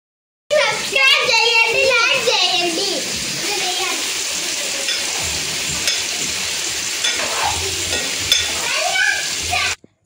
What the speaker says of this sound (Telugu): కర్రీ అయితే చాలా స్పైసీగా వండుతున్నారు